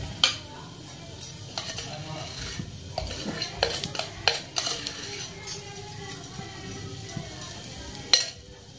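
Soft sizzling of ghee heating in a pressure cooker, with clinks of a spoon against the metal, occasional sharp taps over a quiet kitchen background.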